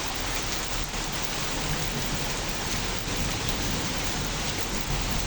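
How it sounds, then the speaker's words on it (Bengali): Heavy rain pours down steadily and loudly, a dense unbroken hiss of water striking surfaces close by for the whole stretch, with no voices over it. "প্রচুর বৃষ্টি হচ্ছে, প্রচুর।"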